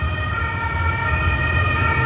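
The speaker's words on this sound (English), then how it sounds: "it's an ambulance" An ambulance siren wails steadily on a city street in Brussels, a sustained tonal blare over low traffic rumble, fairly close and loud without any speech.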